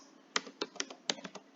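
Python code being typed on a computer keyboard: a quick, irregular run of about eight crisp keystrokes, with a few sharper clacks standing out, heard fairly close and alone.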